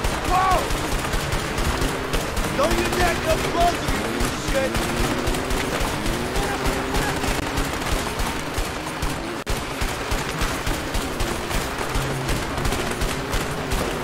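Constant rapid gunfire crackles throughout in the co-op video game A Way Out, steady bursts of automatic shots, with someone talking quietly underneath.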